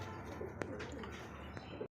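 Indigenous and foreign pigeons kept for sale coo softly and continuously in a dense, low murmur that cuts off abruptly at the end, with no clear talk.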